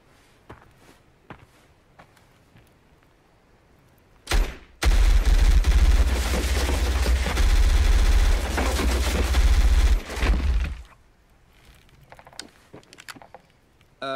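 P90 submachine gun from Stargate SG1 fired in one long sustained burst of about six seconds, loud and dense, framed by quieter scattered clicks and movement before and after.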